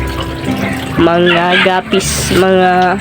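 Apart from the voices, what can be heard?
water running while refilling a fish tank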